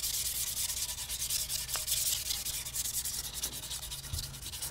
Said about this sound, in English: I'm actually gonna pull the sandpaper off and do like Matt is and do the sides by hand as well.